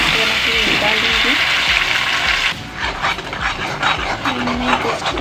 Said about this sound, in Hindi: उसमें मैं अभी थोड़ा सा राई डाल दूंगी, जीरा डाल दूंगी और मैंने अदरक लहसुन प्याज की पेस्ट बना के डाल दूंगी।